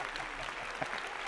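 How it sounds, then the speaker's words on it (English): A church audience claps together for a prophet, a continuous wash of hand clapping heard at a distance and fairly faint, steady for the whole stretch. "A big hand clap for the master prophet."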